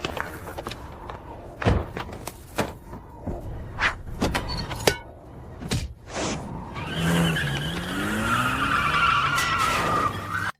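A car tears off in a hurry, tires skidding and squealing over a rising engine roar after a run of sharp thumps and door slams, loud and close with no talk.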